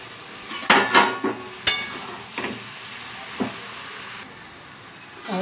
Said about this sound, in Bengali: এবার ঢাকাটা তুলে একটু নেড়ে দেবো।